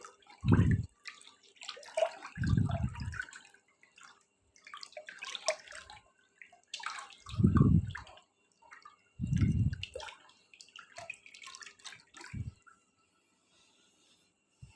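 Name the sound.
stirring EM4 solution in water container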